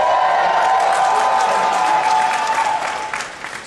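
A large convention audience at PAX Prime 2010 applauds and cheers loudly in a dense, continuous wash of clapping that fades near the end.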